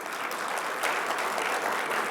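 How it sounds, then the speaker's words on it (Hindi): Applause from a large audience at a public address, a loud, dense wash of clapping hands that stays steady throughout without pauses or voices on top. "ताली बजाइए जोर से, अच्छा लगा तो।"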